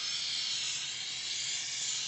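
Steady hiss as a molten gold-silver alloy for 18k gold hits a cold steel surface, a bright, even sizzle lasting about two seconds with no voices.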